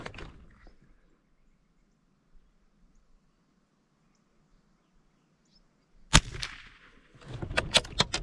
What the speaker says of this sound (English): Hopefully won't pull the shot.